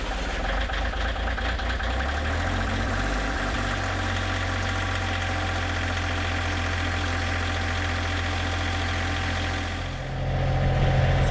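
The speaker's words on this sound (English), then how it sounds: "that's typically how my tractor starts, like it'll crank slowly like that" A diesel tractor engine cranks over slowly and catches, producing a loud, steady, low mechanical rumble close by that shifts and rises near the end.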